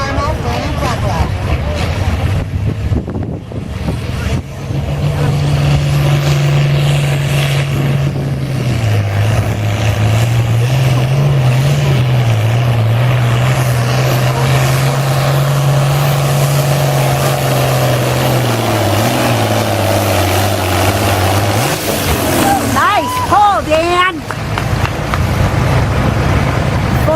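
A farm tractor in the open farm 9700 pound class roars continuously at a tractor pull, its loud engine drone shifting pitch as it labors, with an announcer talking over it throughout.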